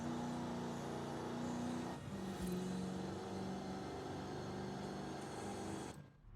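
Bentley car engine in the racing game Forza Horizon 5, a muted, smooth steady drone with a slight shift midway, heard alone before cutting off near the end.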